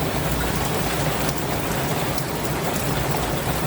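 Steady, dense rain pours down without a break, a loud even hiss of drops hitting surfaces all around.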